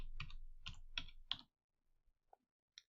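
Bursts of rapid keystrokes on a computer keyboard, close and crisp in quiet room, a run of clustered clicks for about a second and a half, then silence broken by a few isolated taps.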